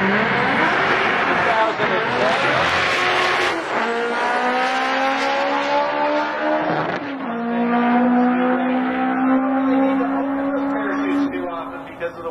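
A sport compact drag car at an NHRA drag racing event screams through a high-revving run with rising engine pitch through gear changes, loud and close, before settling into a sustained drone.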